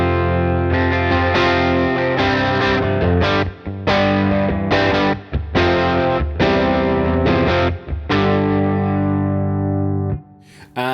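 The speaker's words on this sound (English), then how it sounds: "So here's the guitar on its own." Electric guitar played on its own through a Walrus Audio Luminary V2 octave generator pedal, recorded via an Apollo interface, with delay and reverb: loud, sustained funky chords and stabs with short breaks, tails ringing between hits.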